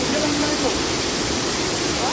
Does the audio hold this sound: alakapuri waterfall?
yes